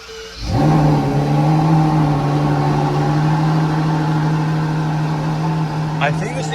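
A wide-body N-Largo GTS hypercar starts and settles into a loud, steady droning rev held close by, with a faint voice near the end.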